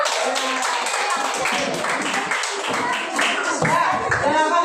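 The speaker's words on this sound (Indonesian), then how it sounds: "tepuk tangan semuanya" A classroom applauds together, steady dense clapping filling the whole stretch at close range, with some voices mixed in.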